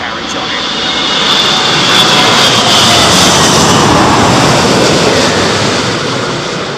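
An Airbus A380 lands in strong wind at Heathrow, its engines producing a very loud, broad roar that swells over the first two seconds and then holds steady and close, with gusty wind noise throughout.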